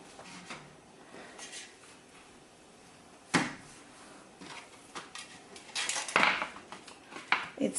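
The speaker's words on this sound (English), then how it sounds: "I'm gonna pick that up as carefully as I can and put it in the pan." Zaatar flatbread dough is lifted and set into an oiled pan, giving soft clatters and knocks of the pan and kitchenware, with sharper clanks near the middle and toward the end.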